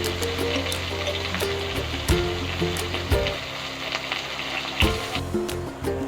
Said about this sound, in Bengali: কুচানো রসুনটা দিয়ে দেব।